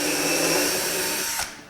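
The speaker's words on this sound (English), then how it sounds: "put a little bit of weight into this drill" A power drill driving a screw into wood whirs loudly at a steady high pitch for over a second, then abruptly winds down and stops as the screw seats.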